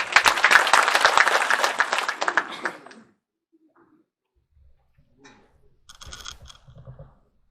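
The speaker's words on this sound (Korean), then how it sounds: "박수 부탁드리겠습니다" An audience at a rural public hearing on apple distribution breaks into dense applause for a few seconds, then it fades into near silence with faint scattered shuffling and knocks.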